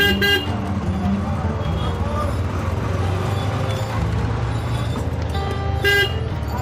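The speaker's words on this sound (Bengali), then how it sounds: "আমার অটোটা এখন যাত্রা শুরু করে দিল" Engine drone of an auto rickshaw moving through busy traffic, with car horns tooting around it and voices talking nearby.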